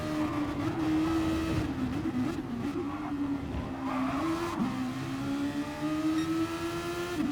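Super Formula race cars lapping Suzuka in a racing game, with a loud, steady high-pitched engine whine that shifts as the cars change gear, plus tires rolling and squealing on asphalt.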